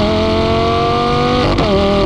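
A Lamborghini Gallardo Performante engine in manual mode pulls hard under acceleration with a loud, steady, rising tone, then a sharp upshift briefly cuts the note before it climbs again, close and alone.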